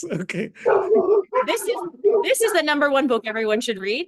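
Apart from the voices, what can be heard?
dogs barking in the background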